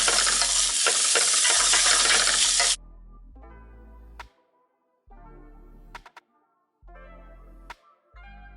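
Brussels sprouts and bacon sizzle in a pan on the stove, a loud steady hiss at first that then breaks into intermittent stirring and frying bursts separated by near-silent gaps.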